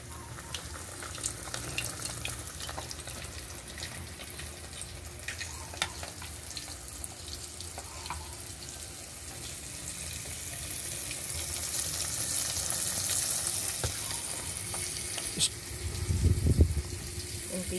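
Breaded chicken pieces frying in hot cooking oil, a steady broadband sizzle that swells and grows louder near the end, with faint clinks and movement in the background.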